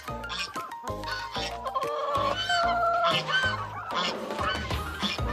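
A backyard flock of mixed-breed hens raised from chicks clucks and squawks nearby in a dense, overlapping chorus with loud bursts and short pauses.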